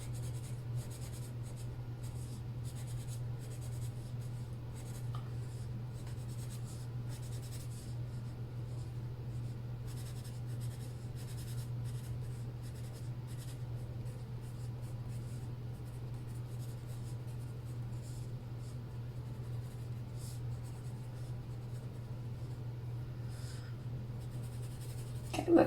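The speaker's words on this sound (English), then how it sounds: "Maybe color in the tops and the bottoms of these guys too," A pencil colors in on paper with a steady, continuous soft scratching of close strokes, unbroken and quiet throughout.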